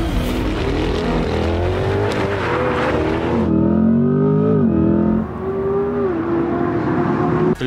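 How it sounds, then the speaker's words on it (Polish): Engine of a Corvette C8 E-Ray, the mid-engine hybrid Corvette, in the racing game Forza Horizon 5, droning and revving loudly throughout with shifting pitch, like a car under acceleration heard alone. "silnik spalinowy jest montowany centralnie, bo jest to ta nowa Corvetta"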